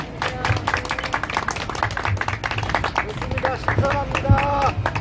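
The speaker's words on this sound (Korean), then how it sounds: "우리 박수 한번 치겠습니다." Audience clapping at an outdoor Korean patriotic rally, a brisk scattered patter of hands under crowd murmur, with a voice speaking over it.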